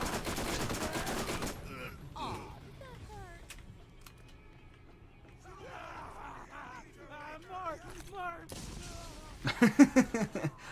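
Gunfire in the Borderlands video game, a loud rattling burst at the start, then quieter scattered shots and in-game yelling, ending in a strong rapid volley of shots.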